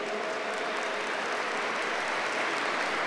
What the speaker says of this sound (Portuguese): Vamos aplaudir sim nosso Senhor.